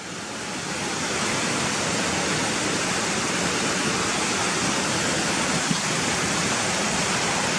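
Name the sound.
stream water flowing over path, dog wading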